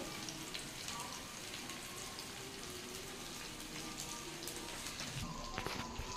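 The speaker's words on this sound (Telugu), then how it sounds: "ఇక సాంబార్ ఇలా మగ్గుతూ ఉంటుందండి" Fish sambar simmering on low heat in a covered pot gives a faint, steady bubbling hiss with occasional soft pops.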